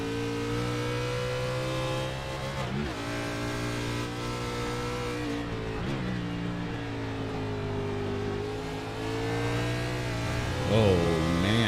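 Onboard the No. 09 racing kart at Sonoma, its engine drones loud and close throughout, with pitch rising and falling as it works through corners and accelerates.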